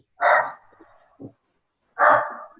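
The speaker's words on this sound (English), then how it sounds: "The dog in the background" A dog gives two separate barks with a pause between them. A small whimper sounds in the gap. The barks are fairly close and clear against an otherwise quiet background.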